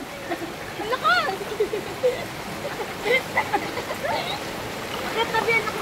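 A strong river current rushes continuously during a sudden flood, a broad watery roar close by, with excited voices calling out over it in short bursts.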